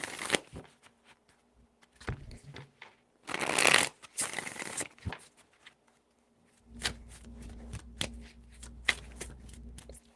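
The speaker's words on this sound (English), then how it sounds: "Three shuffles." Tarot cards being shuffled in a few separate bursts of quick papery riffling and soft slaps, close and fairly clear, with short pauses and faint handling noise in between.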